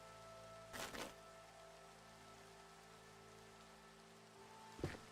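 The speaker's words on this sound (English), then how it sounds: "Rain's kind of ruining my ability to see things right now." Rain falling in the video game Minecraft, a faint steady hiss of rainfall with two brief louder patter bursts, no talk.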